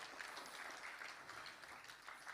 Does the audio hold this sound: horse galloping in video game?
no